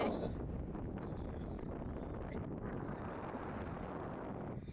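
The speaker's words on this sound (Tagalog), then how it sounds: "Uy, guys, ang hangin." Steady, loud wind roaring and buffeting close to the microphone, filling the whole stretch with a broad rumbling hiss.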